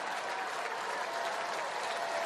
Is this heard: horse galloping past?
no